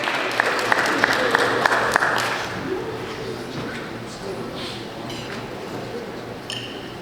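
Guests at a track team brunch clap for a presenter: a burst of brisk applause for about two seconds that quickly dies away, followed by a room murmur, light clinks of tableware and people talking.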